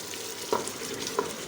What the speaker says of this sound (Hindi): इसको हम मज़ीद 2 मिनट और भूनेंगे ताकि इसका ऑयल जो है वो अच्छे से साइडों से निकल आए।